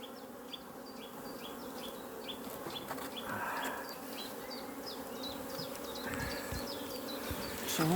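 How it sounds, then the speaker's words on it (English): Honeybees being shaken into a hive while making a split, a steady close buzzing drone throughout, with a few soft knocks and rustles from the handling. "ready to shut this up once Stuart has shaken a few more bees in."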